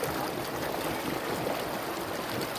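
A branch stream of a river flows near the farmland of Lubuk Paku village in Kerinci, a steady rushing, burbling wash of water with no voices.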